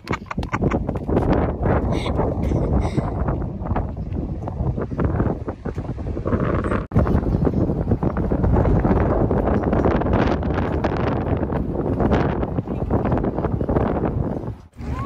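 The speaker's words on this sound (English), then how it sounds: "It's windy, but it's not cold." Wind gusts outdoors at a garden centre, buffeting the microphone with a loud, continuous rumble. It briefly cuts out midway, then picks up again just as strongly.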